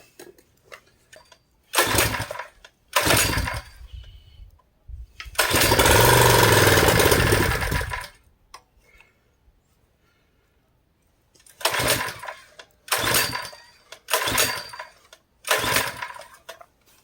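A small engine fed on ether coughs and sputters with loud, ragged bursts, catches to run briefly for about three seconds and dies, then fires in several more separate sputtering pulses, close and harsh.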